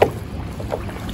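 A kayak paddle makes a reverse stroke, catching the water just behind the seat and pushing the boat backwards. A brief soft splash and swish of water stand alone outdoors.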